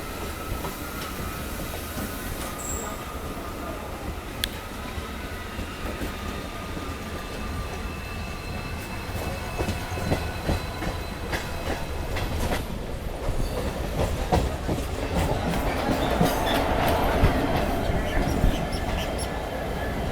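Local train on the Howrah to Kharagpur line heard from inside, a continuous rumbling run with rhythmic clickety-clack of wheels over rail joints, some squealing and rattling, building slightly louder toward the end.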